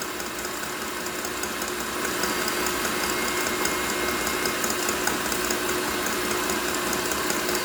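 A stand mixer whips meringue as sugar is added slowly, giving a steady, even motor whir that runs unbroken and fairly loud throughout.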